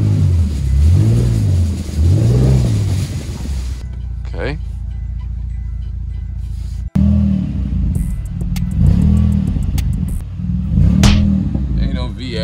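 A Dodge Durango GT engine, freshly swapped, revs up and down in repeated swelling sweeps, loud and close, with a quieter idling stretch in the middle while someone talks over it.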